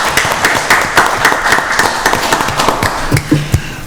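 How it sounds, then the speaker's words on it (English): A small group claps at a county board of commissioners work session, fairly close and loud with distinct individual claps in an uneven rhythm, thinning toward the end. "Let's give them another round of applause."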